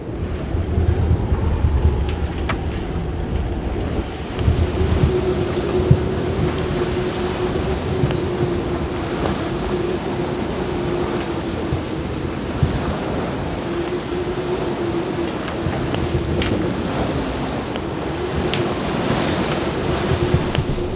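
Force 8 wind gusting to 40 knots roars across the microphone at sea on a sailboat over steadily crashing waves, a constant loud rush with no voices.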